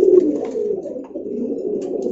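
Bearded fancy pigeons in a pigeon seller's loft in Dhaka coo in soft, low, rolling calls, close and continuous for a couple of seconds with no talk.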